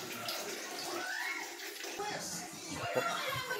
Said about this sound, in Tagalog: nag-iipon akong tubig para makaligo po